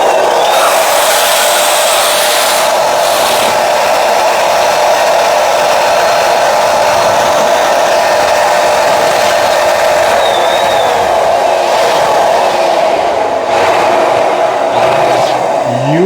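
An electric balloon inflator runs steadily while blowing up a cube-shaped, present-style balloon, giving a loud continuous motorized whoosh that holds nearly unchanged for the whole stretch with no talking.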